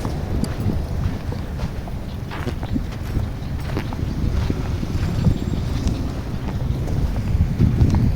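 Steady desert wind buffeting a microphone, a low rumbling roar that fills the whole stretch with scattered gusty thumps, fairly loud and continuous.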